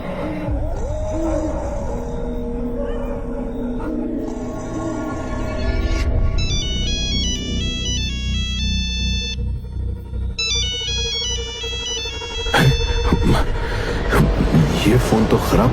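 A phone rings in a haunted house horror cartoon, a bright repeating electronic ringtone pattern over eerie low music, loud and steady, with a voice speaking during the ringing.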